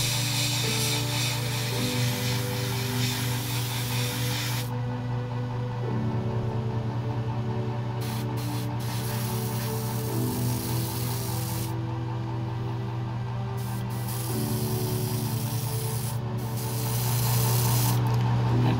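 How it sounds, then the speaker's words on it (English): An airbrush sprays Stynylrez sandable primer with a steady hiss over a low continuous compressor hum, the air tone shifting as the trigger is worked, no voices. "So I'm very pleased with how this sprays the Steinel Res."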